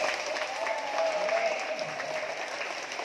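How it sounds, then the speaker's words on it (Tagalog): A church congregation claps loudly together during a worship service, a dense, steady roar of applause that holds for the whole stretch with no voices over it. "palakpak ng malakas sa Diyos."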